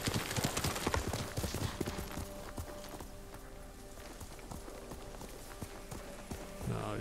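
Horse hooves while riding in the video game Ghost of Tsushima: fairly faint, rapid clip-clop footfalls from a galloping horse with ambient game sound around them.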